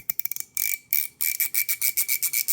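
A 3D-printed mechanical rotation slider fidget toy, loud for its type, rotated by hand: a quick run of sharp clicks gives way to repeated bright scraping, ringing sweeps in a steady rhythm, close and alone.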